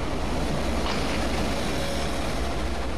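A passenger train running from Batticaloa to Colombo rolls along the railway tracks with a steady, dense rumble and rushing noise that holds at an even, fairly close level throughout.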